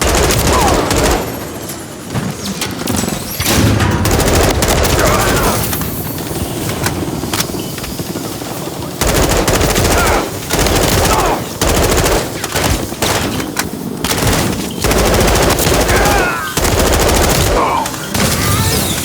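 Sustained machine gun fire and dense gunfire bursts in Call of Duty MWIII, aimed at an enemy helicopter during a combat mission, loud and continuous over about nineteen seconds with brief gaps and battlefield rumble beneath.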